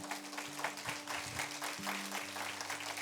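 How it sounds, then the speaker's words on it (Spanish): Faint applause from a church congregation during a sermon, with soft scattered clapping over sustained keyboard tones. "Dale un aplauso al Señor,"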